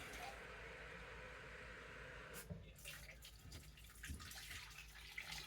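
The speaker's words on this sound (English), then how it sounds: "Dump some more water. Let's fill this one up and get some more flavor." Water is poured into a jar to rinse out leftover cabbage soup flavor, a soft running splash that stops partway through, followed by light clinks and handling sounds, quiet and close.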